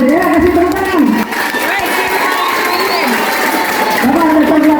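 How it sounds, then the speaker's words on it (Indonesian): During a Christmas church service, a congregation with children present claps and cheers. Loud, lively applause mixes with shouting and chatter, and raised voices stand out near the start and end. "Kasih tepuk tangan."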